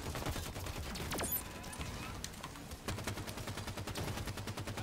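Automatic gunfire in the Warzone video game rattles in dense, continuous bursts, loud and close, with a few sharper cracks standing out through the whole stretch.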